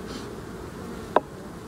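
Honey bees hum in a soft, steady buzz around a beehive frame, close by, with one brief louder tap partway through.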